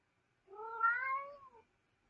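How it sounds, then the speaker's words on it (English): A cat gives a single drawn-out meow, clear and fairly close, rising then falling over about a second against otherwise near silence. "Somebody's kitty is enjoying this conversation"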